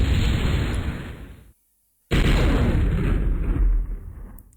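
Retractable rifle firing in the MechQuest video game, a loud sustained blast that cuts off abruptly into a brief silence before a second burst resumes at full strength.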